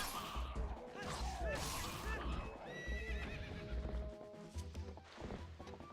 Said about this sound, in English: I'm gonna run you over with my horse.